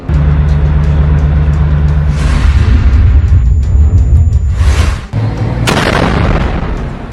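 A shell fired at an IDF soldier in a combat zone produces loud, heavy booming blasts, several broad bursts of noise over a rumbling background.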